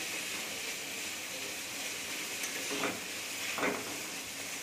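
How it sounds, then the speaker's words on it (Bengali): Cauliflower fries in a pan with a soft, steady sizzling hiss, and two brief stirring scrapes break in near the end. The frying stays faint and close, with no voices. "এখন আমি এই যে ফুলকপি ভাজছি"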